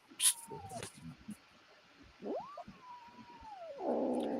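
An angry female cat lets out a drawn-out, wavering yowl and later a rising growling wail, fairly close and moderately loud, with brief rustles between the calls and a rougher noisy burst at the end.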